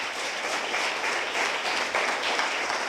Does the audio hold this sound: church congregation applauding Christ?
yes